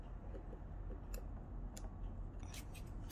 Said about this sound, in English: And now I cut the corner here.